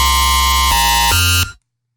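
A dry, buzzy dubstep synth bass with no effects plays three sustained notes in a row, each shifting pitch, then cuts off cleanly into silence.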